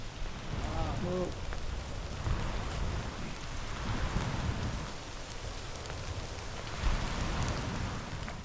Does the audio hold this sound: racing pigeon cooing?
no